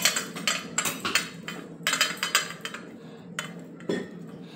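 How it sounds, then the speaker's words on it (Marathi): A pestle pounds coriander and fennel seeds in a mortar with rapid, rhythmic knocks and gritty crunches, close and fairly loud, pausing briefly now and then. "आता या खलबत्त्यामध्ये आपण धने आणि ही जी बडीशोप घेतली आहे"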